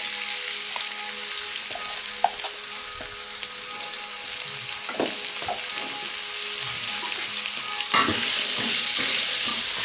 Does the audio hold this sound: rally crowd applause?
no